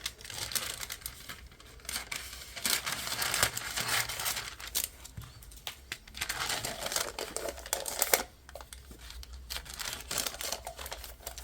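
Paper wrap crinkling and rustling as it is wrapped around a sublimation mug, continuous close crackling with a few sharper snaps.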